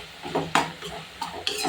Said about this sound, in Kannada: ಸೊ ಸ್ವಲ್ಪ ಸಾಲ್ಟ್ ಹಾಕಿ ಹಾಗೆ ಹುಣಸೆ ಹುಳಿ ಹಾಕಿಬಿಟ್ಟು ತಿರುಗಿಸ್ತಾ ಇದ್ದೀನಿ